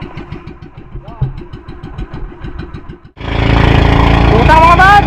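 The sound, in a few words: fishing boat engine running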